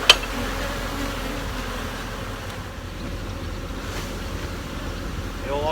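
Honey bees buzz inside a honey house around a catch hive, a continuous low drone that stays fairly faint and steady throughout.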